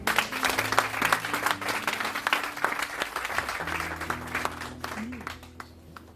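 A church congregation applauds loudly and steadily at a worship gathering, dense clapping filling the room and slowly easing off, with voices and a few cheers mixed into the crowd noise.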